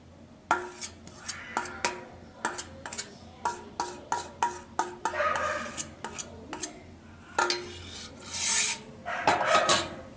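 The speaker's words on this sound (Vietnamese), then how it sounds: "các bạn đánh thật đều lên" Eggs and condensed milk beaten together into a flour batter for Vietnamese egg-milk pancakes, giving a steady run of close, scraping, rasping strokes against a bowl in uneven bursts, with no talking.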